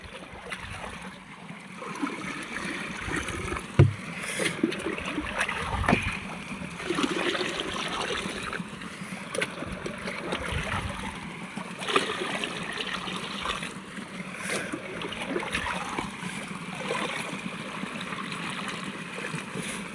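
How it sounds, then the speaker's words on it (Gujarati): Water poured from a bucket into a large drum of farm spray mixture splashes and trickles steadily for a long stretch, with irregular sloshes and gurgles close by. "પાણી ભરી દઈએ અંદર"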